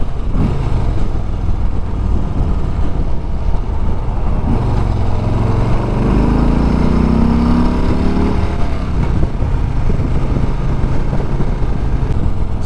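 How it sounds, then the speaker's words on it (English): A 2020 Harley-Davidson Softail Street Bob Big Twin motorcycle is ridden on the road, its engine rumbling steadily under heavy wind noise, with a brief rise in revs partway through. "So this is the Softail Street Bob, least expensive Big Twin."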